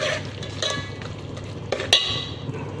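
Potatoes fried with green chili, salt and crushed red chili being stirred in a pan: steady soft sizzle under repeated scraping strokes of a utensil, with a couple of sharper clinks against the metal near the end.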